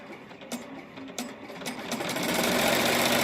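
A Melco EMT16X commercial embroidery machine stitches with Hobby Lobby thread at about 900 stitches per minute, making a fast, continuous mechanical chatter with rhythmic needle knocks that grows steadily louder and closer.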